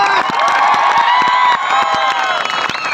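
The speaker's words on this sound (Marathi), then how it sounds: "त्यांच्यासाठी टाळ्या वाजवा" A large crowd claps and cheers loudly and continuously, a dense wash of applause with scattered shouts and whoops rising through it.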